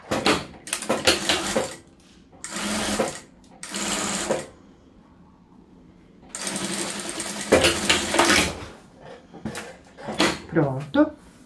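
A domestic sewing machine stitches a double-sided fabric placemat in several short runs with pauses between them. Its motor whirs loud and close, and someone speaks softly during the gaps.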